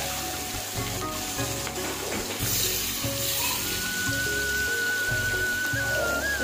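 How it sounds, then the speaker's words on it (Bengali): Pieces of rohu fish fry in hot oil in a kadai, giving a loud, continuous sizzle with light crackling and occasional soft clinks from the pan. "মাছগুলোকে দিয়েছি, এবার হচ্ছে ভালোভাবে মাছগুলোকে ভেজে নেব"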